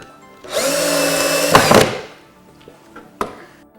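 A power drill on slow speed bores into wood for a birdhouse, a steady whirring drone lasting over a second, ending with a brief rougher grinding burst, then a sharp knock a moment later in a quiet room.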